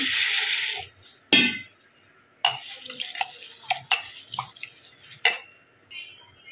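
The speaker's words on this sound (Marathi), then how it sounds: "तर तो पहिले धुवून घ्यायचा आपल्याला स्वच्छ 2 पाण्यामध्ये।" Half a kilo of sago pearls being washed by hand in water, close sloshing and dripping splashes in several short bursts separated by quiet pauses.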